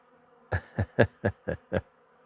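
Bees at a small catch hive being readied for winter break into agitated activity: six short buzzing bursts, evenly spaced about a quarter second apart, close and moderately loud, with near silence before and after.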